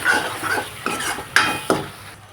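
Yogurt being mixed into kadai paneer masala in a pan, four distinct spoon knocks and scrapes against the metal pan at uneven intervals, close and clear with a faint sizzle underneath and no talking.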